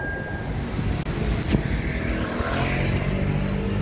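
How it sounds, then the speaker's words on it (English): Motorcycles ride along a busy sidewalk in Waikiki on a Saturday night, a steady engine drone mixed with street noise and a passing vehicle swell, fairly loud and without speech. "Motorcycles on the sidewalk."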